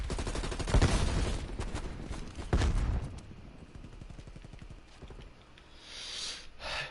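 Rapid gunfire from a Call of Duty: Cold War match, bursts of shots with loud peaks early on, then a lower busy mix of shots and game noise.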